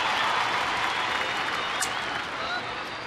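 A ballpark crowd roars and applauds at a night baseball game in Texas, a broad, steady wash of cheering with a commentator's voice over it.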